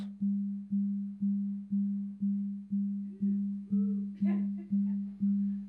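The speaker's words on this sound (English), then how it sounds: "If we take the fractional of the beat that we know and multiply our sine wave with that envelope, we can get a pulse." A synthesized minimal techno sine tone, pulsed about twice a second by a decaying envelope, each beat snapping on then fading; eleven even pulses play loud and steady, with faint chirps and a brief burst of higher tones near the end.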